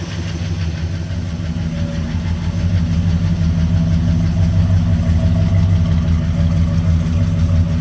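A 1969 Chevrolet C10 pickup's 396 V8 idling steadily after sitting about 28 years, with a deep, even low rumble, loud and close, no revving.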